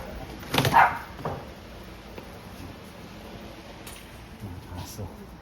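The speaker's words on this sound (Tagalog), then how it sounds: "Mga aso." A dog barks once or twice early on, somewhat distant, over a low background murmur, then the scene settles into quiet ambience.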